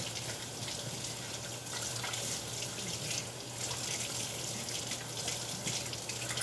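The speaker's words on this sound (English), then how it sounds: "Now I'm going to wash my hands" Tap water runs steadily into a kitchen sink while hands are washed, a soft continuous splashing hiss with small shifts in flow.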